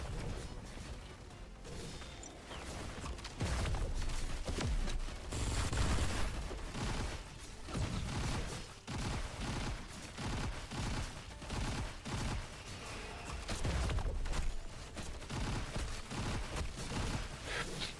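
Dense, continuous gunfire from a mech in the MMORPG RF Online Next, with rapid overlapping shots and heavy impacts rolling on loudly throughout.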